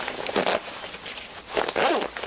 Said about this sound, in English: The inner zip is the waterproof zip. Make sure that that is fully done up.